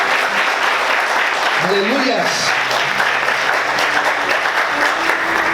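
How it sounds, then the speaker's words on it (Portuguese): Church congregation applauding joyfully through the whole stretch, steady dense clapping with a voice calling out and speaking over it partway through. "Vamos aplaudir o Senhor com bastante alegria."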